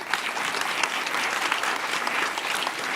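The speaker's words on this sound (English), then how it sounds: "Please give them a round of applause." A room full of people claps at a Houston Diversity Month event, a thick, continuous wash of applause holding at an even level from start to finish.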